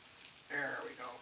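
Irish potato pancakes fry in a pan with a soft, steady sizzle and crackle that rises briefly, heard up close for about a second with no talking.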